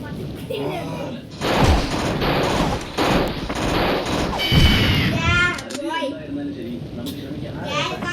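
Gunfire in the Mini Militia video game comes as bursts of rapid shots and thuds amid busy game effects, with people talking over the action.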